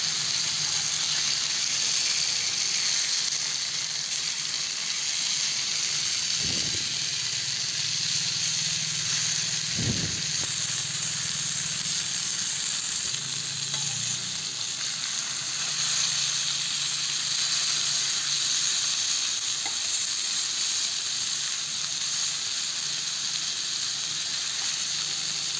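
Koramenu fish fries on a tawa over a low flame, a steady close sizzle running throughout with a couple of brief clicks from turning the fish.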